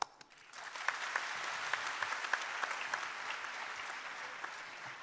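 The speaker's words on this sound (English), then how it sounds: "this historical event deserves the loudest of applause" Students at Kashmir University applaud dignitaries including Rahul Gandhi, a dense crowd of clapping that swells quickly after a brief start and then holds steady, loud and continuous, with no talk over it.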